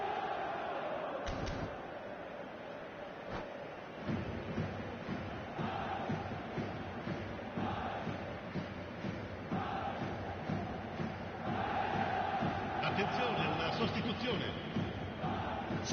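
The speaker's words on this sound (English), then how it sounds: "Certainly gave this crowd something to really cheer about." Stadium crowd noise from a football video game, a steady roar and cheer that swells toward the end and runs throughout, while commentators talk over it.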